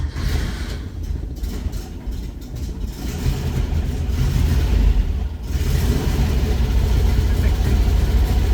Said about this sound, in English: Little cold start here in the 914